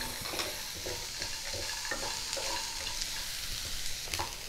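Onions, mango ginger and green chilli frying in a pan for a bitter gourd and lentil dumpling dish, gently stirred with a steady close sizzle and soft regular scraping strokes.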